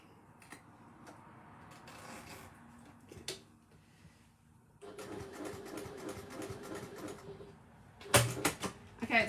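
A sewing machine stitches a row on a pocket in short bursts of fast mechanical whirring, quiet at first and louder toward the end, with brief handling clicks between runs.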